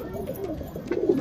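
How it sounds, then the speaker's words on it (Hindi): A Tajbag high-flyer pigeon gives a short, throaty coo at close range, swelling slightly louder toward the end of the brief call. "ये दूसरी है, ये ताजबाग की कबूतर है।"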